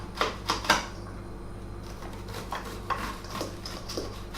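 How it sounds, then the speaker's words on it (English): A knife slices sweet corn kernels off the cob into a bowl, giving soft, scattered cutting and scraping ticks, faint and close, in brief clusters with quiet pauses between. "So we're just going to cut it down the sides and take the cobs off."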